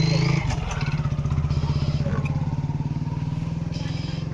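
A John Deere 5050D tractor's diesel engine idles close by in a fast, even chugging pulse that stays steady throughout, with a brief clatter near the start and voices in the background.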